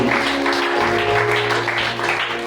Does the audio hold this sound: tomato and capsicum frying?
no